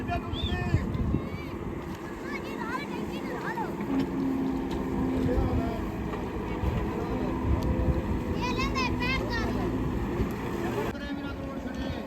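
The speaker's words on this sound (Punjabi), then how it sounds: "ਜਾ ਰਿਹਾ ਟਰੈਕਟਰ ਆਪਣੀ ਮੰਜ਼ਿਲ ਦੀ ਤਰਫ ਬਾਹਰ ਜ਼ੋਰ ਲੱਗ ਰਿਹਾ" Russian tractor with a broken front axle straining to pull out of the Chenab river: a steady, laboring engine drone with wind noise, while people talk over it nearby.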